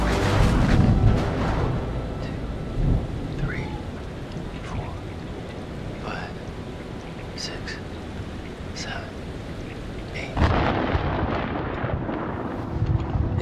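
Thunder from a storm in the video game Man of Medan rumbles through steady rain, with heavy low rolls at the start and another surge near the end, and faint game sounds over the top.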